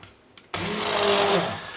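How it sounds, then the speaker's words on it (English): An immersion blender switches on sharply and whirs loudly and steadily through softened poppy seeds and water for just over a second, then begins to wind down. Two faint clicks come just before it starts. "I'm going to go ahead and blend them up with an immersion blender."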